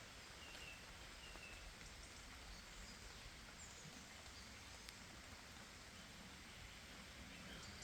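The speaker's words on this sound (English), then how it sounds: "Certainly coming down now, the rain." Steady, dense rain patter on a tent in woodland over broadband hiss, continuous and fairly close, with no talking.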